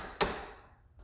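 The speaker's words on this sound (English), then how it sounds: "torque this nut and then see if the impact can remove it" A Bauer cordless impact driver breaks loose a torqued nut with one sharp, loud metallic crack, followed by a short fading ring and a faint tap at the end.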